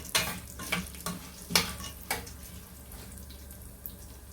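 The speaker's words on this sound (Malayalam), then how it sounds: "ഇപ്പോൾ ശർക്കര നന്നായിട്ട് തിളച്ചിട്ടുണ്ട്." Jaggery syrup boils in a pan on the stove with a wet, bubbling sizzle. Several sharp stirring or scraping knocks come early, then the bubbling settles into a steady simmer.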